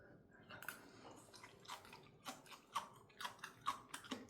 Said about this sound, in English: this crispy and crunchy sound from the spring onion